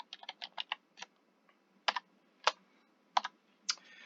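Quiet, close keystrokes on a computer keyboard while entering code for an Arduino serial monitor, a quick run of taps, then spaced single presses and short clusters.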